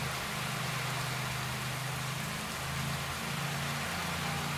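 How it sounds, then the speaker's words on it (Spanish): Rain in the cycling game Pro Cycling Manager 2017, a steady hiss of rainfall over a low droning hum, continuous and fairly loud throughout with no talking. "Ahí tenemos la lluvia que yo predecía."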